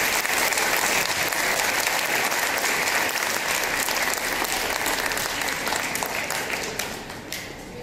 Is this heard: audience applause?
yes